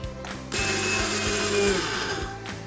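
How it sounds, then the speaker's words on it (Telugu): Mixer grinder powdering fried whole spices such as cinnamon, cloves and peppercorns into masala: the motor starts up after a brief pause and runs as a loud, steady whirring drone with a rattling grind, no speech. "ఇవన్నీ బాగా ఫ్రై చేసుకుని మనం మిక్సీ అయితే పెట్టేసుకుని పౌడర్లా ప్రిపేర్ చేసుకోవాలి."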